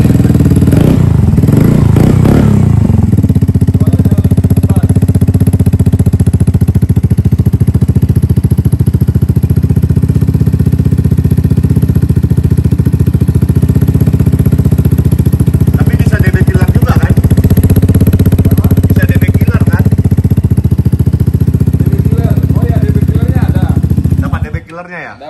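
Modified Vespa Sprint S 150 scooter with an aftermarket exhaust runs steadily and loudly up close, a constant throaty engine drone with slight clatter, people talking briefly near the start and the sound cutting off at the end.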